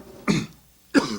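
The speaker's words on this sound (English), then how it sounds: "I've developed a cough" A man coughs twice in short, rough bursts about half a second apart, close and clear, during a discussion on Pan Africanism.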